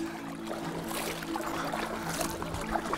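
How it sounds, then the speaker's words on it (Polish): A paddle boat or canoe is paddled upstream against the current on the Biała Nida river, with soft watery splashes and trickling strokes close by over continuous flowing-water noise. "Popłyniemy pod prąd."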